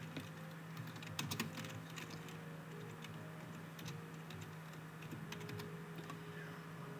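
Fingers typing on a computer keyboard, a close series of quick, light key clicks in an uneven rhythm over a steady hum of room noise.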